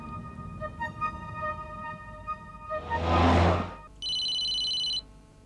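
A telephone rings indoors in a tense drama scene: a repeating electronic ring with bright steady tones, a brief whoosh in the middle, then a sustained high beeping tone near the end, with no talking.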